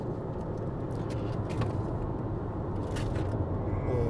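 Cabin sound of a BMW iX1 eDrive20 electric car taking a curve: a steady, fairly loud road and tyre rumble with a constant low hum throughout, no voices heard.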